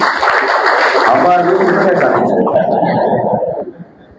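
Audience applause at a public event in Mahad, where an industries minister speaks on the municipal council's loan waiver: a dense, steady wash of clapping for about three and a half seconds, fading out at the end, with some laughter mixed in.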